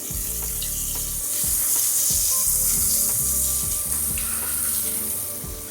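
Butter sizzles and spits steadily in a hot cast iron skillet as it coats the pan for buttermilk cornbread, with a dense, continuous frying hiss and occasional soft scraping, close and fairly loud.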